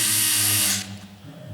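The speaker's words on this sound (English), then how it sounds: "you can use it like a normal screwdriver, or you've got the buttons for undoing and doing up" A small, low-torque handheld electric screwdriver whirs with a close, high motor whine for under a second, then cuts off abruptly, leaving near silence.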